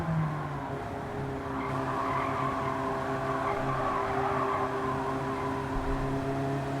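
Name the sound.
Honda Beat car driving, Gran Turismo 7 video game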